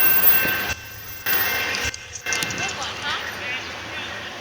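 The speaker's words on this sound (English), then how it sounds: "Northbound BNSF with Norfolk Southern crude oil train." A northbound BNSF freight hauling Norfolk Southern crude oil tank cars rolls past a ferry dock in Steilacoom, Washington, a loud close rumble with rhythmic wheel clatter and metallic squeal, broken by brief gaps, while voices talk excitedly.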